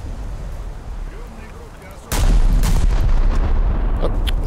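Naval guns on a ship in the War Thunder video game fire a heavy, booming salvo that breaks in suddenly and loud. A dense rumble follows, after a quieter stretch of low background noise.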